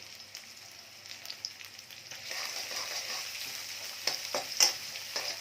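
Onion and chilli hit hot oil with garlic already frying, a steady sizzle building louder partway through, with occasional stirring scrapes and crackles near the end.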